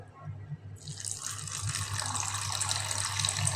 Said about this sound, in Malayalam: ഇതിനകത്തേക്ക് കുറച്ച് വെള്ളം ഒഴിച്ച്